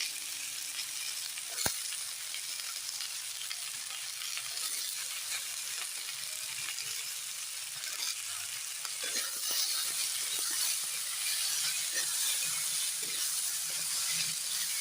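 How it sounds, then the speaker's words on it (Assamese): Potatoes and peas for a paneer curry sizzle steadily in a pan, a continuous close frying hiss with occasional stirring clicks and a brief sharp knock near the start, no talking. "এতিয়া অলপ ভাজি ল'ব লাগিব"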